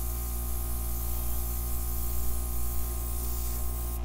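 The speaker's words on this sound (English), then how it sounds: "I'm even airbrushing the edge here." An airbrush sprays acrylic paint onto the edge of a wood round, a steady, quiet hiss running continuously over a low electrical hum, with no talking.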